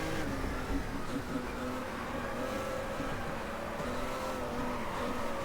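A stock car in the Stock Car Extreme racing game is held at full throttle, its engine droning loud and steady for the whole stretch with no talk over it.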